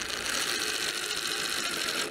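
Power driver sinking a screw into a wooden deck board, a steady close whirring drone with a ratcheting texture, lasting about two seconds without talk.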